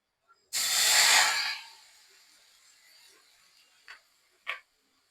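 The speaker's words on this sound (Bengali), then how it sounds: "মোচাগুলো আমি দিয়ে দিচ্ছি কড়াইতে।" Chopped banana flower, parboiled for a Bengali mochar ghonto, hits a hot wok with a loud burst of hiss and steam that fades over about a second, then a low simmering crackle with two short sharp pops near the end.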